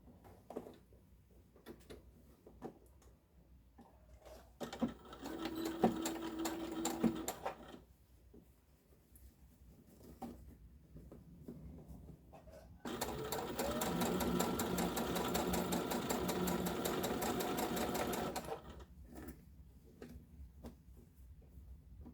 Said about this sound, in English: And then you're going to top stitch all the way around.